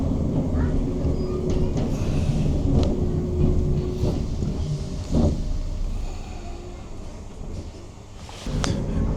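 A ScotRail train heard from inside the carriage gives a steady, heavy low rumble with rattles and occasional clunks.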